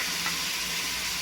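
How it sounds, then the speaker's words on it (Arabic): Vegetables including bell pepper fry with garlic and onion in olive oil, a steady close sizzle without pause over a short moment. "ونخليها تشحر مزيان، تقلى مزيان مع هاد الزويته ديال زيت الزيتون مع الثومه والبصله"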